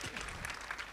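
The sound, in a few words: audience applause at conference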